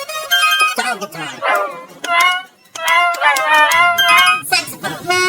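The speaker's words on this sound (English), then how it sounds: "Dog guitar." A dog guitar toy plays a song using sampled dog barks and yips for each note, a choppy series of bark-toned pitches close up.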